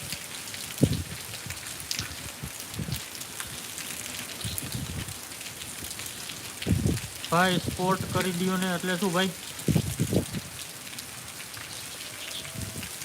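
Heavy rain hisses steadily and close, drumming on surfaces at a farm, while someone talks over it in short bursts and a brief melodic tone sounds midway.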